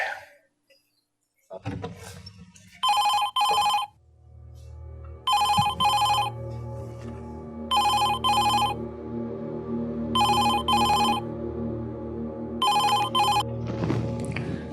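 A telephone rings in a home, with five paired bursts of bright electronic ringing at regular intervals over a low steady hum.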